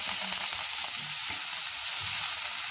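Chopped onion sizzling as it sautés in hot oil, a steady, close crackling hiss with occasional soft stirring, no voices.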